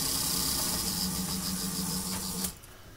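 The motor of a model NS 2200 locomotive runs with a steady, fine electric whir and a slight irregular hobble, faint and close, then cuts off abruptly near the end.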